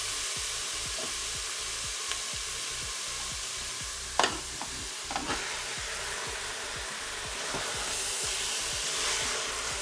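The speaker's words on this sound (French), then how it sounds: "Donc, je vais faire revenir ma viande hachée." Minced meat browns with softened onions in a Cookeo pot, giving a steady close sizzle. A few clinks of a utensil stir through the middle, and no one speaks.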